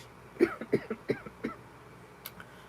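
A few short, sharp coughs in quick succession, fairly close, followed by quiet.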